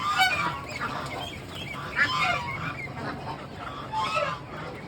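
Two-month-old ducks on a duck farm honk and quack in a noisy, overlapping chorus, with repeated bursts from several birds close by.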